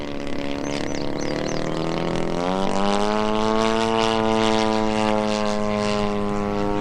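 The EME 60 gas engine of a 50cc Maxford USA Antonov An-2 RC model biplane drives its propeller with a loud, steady buzzing drone. The pitch climbs and holds higher as the throttle opens during aerobatics.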